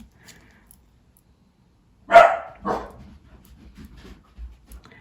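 A small dog lets out two quick, sharp barks close by, followed by soft panting and faint shuffling in an otherwise quiet room.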